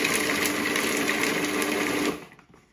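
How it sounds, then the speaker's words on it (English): Blender pureeing frozen mixed berries whirs at a loud, steady high-pitched whine for about two seconds, then cuts off and spins down to quiet. "I'm going to blitz that because you want to make a real lovely puree with it."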